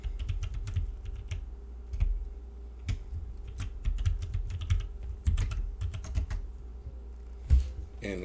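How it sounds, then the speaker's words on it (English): A password is typed on a computer keyboard during a Windows installation: quick, close, irregular key clicks and taps running steadily with brief pauses. "So I'm just going to put in my password."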